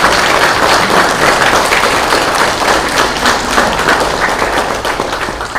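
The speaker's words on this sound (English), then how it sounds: "I'd like to ask everyone else in the room to join me in a round of applause for, again, parents, grandparents, and extended family" Sustained audience applause fills a graduation ceremony hall, dense and steady clapping from a large crowd throughout, loud and close with no talking over it.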